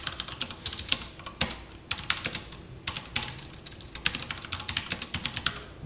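Fingers tap out code on a computer keyboard in uneven bursts of close, crisp keystrokes with short pauses between runs, fairly quiet and with no talking.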